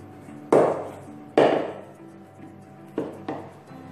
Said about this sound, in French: je vais mettre mon beurre dans mon saladier et je vais venir le fouetter